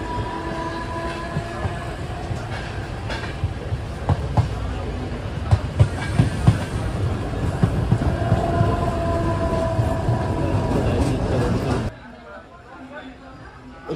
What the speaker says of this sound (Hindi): एक ट्रेन आ गया बीच में।